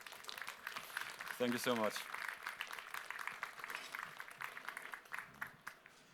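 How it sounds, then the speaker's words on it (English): Brief burst of clapping from a crowd lasting about a second, surrounded by steady talking that continues throughout. "give him another applause"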